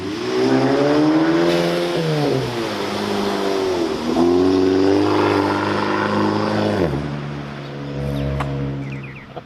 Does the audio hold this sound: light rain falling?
no